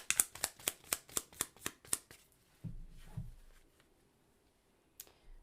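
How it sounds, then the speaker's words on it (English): Tarot cards riffled in a quick run of about eight crisp, evenly spaced slaps, followed by a softer sliding pull of a single card and one last sharp tap. "let's pull a clarifying card for the 8 of Pentacles"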